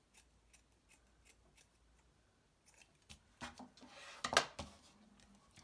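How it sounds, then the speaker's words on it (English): Scissors cut a strip of green paper with a series of quiet, close snips. The snips are sparse at first, then come in a quicker burst of louder cuts toward the end. "I can kind of cut a little strip of this green to start with"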